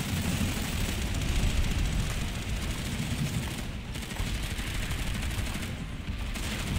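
Dense, continuous video game gunfire, a massed battle line of rifles and machine guns crackling together as an unbroken roar with no pauses.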